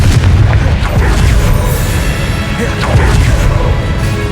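Confringo explosion spell blasts in Hogwarts Legacy, continuous heavy booming rumble with crashing bursts, loud and close, amid combat noise with voices present.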